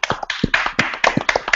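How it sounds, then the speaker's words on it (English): A small group at a developer retrospective clapping together for a colleague, a quick run of sharp claps lasting under two seconds, close and fairly loud, with no talking over it. "Can we all give a clap to that?"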